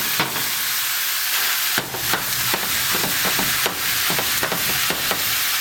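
Two and a half pounds of ground beef sizzle steadily in a pan, a loud broad hiss punctuated by repeated scraping stir strokes, with no talking.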